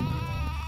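Sheep bleating in the Spyro Shadow Legacy video game, a short, steady nasal bleat held at moderate loudness, close by and alone.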